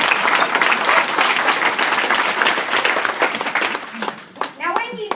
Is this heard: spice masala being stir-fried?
no